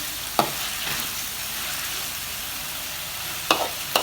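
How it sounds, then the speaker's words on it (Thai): Shrimp stir-fried with halved stink beans in a pan, a steady close sizzle with a few sharp knocks of a spatula against the pan. "เราจะผัดแบบ จืดๆนะคะ"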